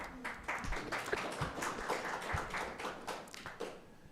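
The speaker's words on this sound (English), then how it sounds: "let me first of all clap for myself for giving you that lecture" A lone man clapping his own hands at a seminar, a quick run of close, sharp claps in an uneven rhythm lasting a few seconds.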